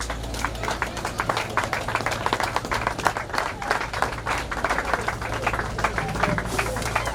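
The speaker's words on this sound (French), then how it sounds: "S'il vous plaît, levez-vous et applaudissez ces enfants." Audience at a national headquarters inauguration applauding children, a dense, steady wash of clapping hands across the whole stretch with a low hum underneath and faint voices mixed in.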